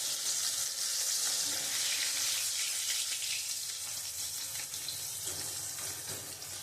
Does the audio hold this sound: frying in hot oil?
yes